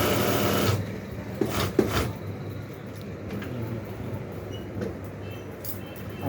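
A sewing machine stitches a straight seam along the edge of cloth for a shalwar zip pocket, a loud fast whirring run for under a second that then stops, leaving a few soft handling clicks and quiet room noise.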